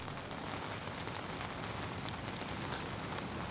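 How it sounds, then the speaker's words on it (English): Pouring rain at an Essex fishing lake, Timberlands, a loud, dense and unbroken hiss of heavy drops pattering on nearby surfaces. "sitting out in a pissing rain and pouring rain"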